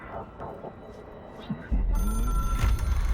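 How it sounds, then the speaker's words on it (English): An in-game telephone rings in Control, a bright tonal ring entering midway and sustaining over low rumbling game ambience. "It is a phone."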